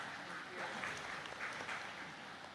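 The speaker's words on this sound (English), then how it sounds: "Big round of applause for Tanya" Steady applause from an audience at a startup pitch event, continuous clapping at moderate volume with no talking over it.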